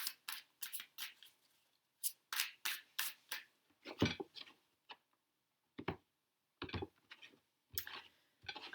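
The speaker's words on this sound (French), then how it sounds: "J'ai un beau mélange de tarot. On remet en ordre tout ça." A deck of tarot cards being shuffled, giving a run of crisp, riffling bursts in quick succession that break off into short pauses and then start again, close up with no talking.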